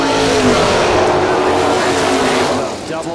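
A Ford Mustang and a Ford Capri launch side by side at a drag race, their engines a dense, loud roar that holds steady and then fades slightly at the end.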